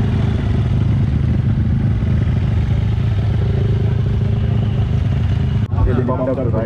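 Off-road racing motorcycles run on a dirt track at a Red Bull event in Bangalore, their engines a steady, loud, continuous roar with clattering, and voices mixed in throughout.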